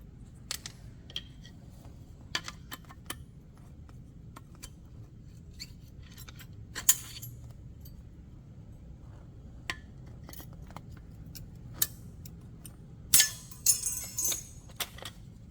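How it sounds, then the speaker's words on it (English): Small metal brake pad clips and shims being pried out of a Jeep Cherokee caliper bracket, with sparse sharp metallic clicks and scrapes and a brief cluster of clinks near the end, over a quiet garage hum. "We're gonna pop our little brackets out of our caliper bracket."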